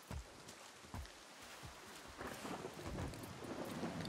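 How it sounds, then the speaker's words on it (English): Rain falling steadily in the video game Far Cry 6, with low thunder rumbles and a few sharper cracks early on, then the downpour grows denser and louder; no talking. "Now it's raining."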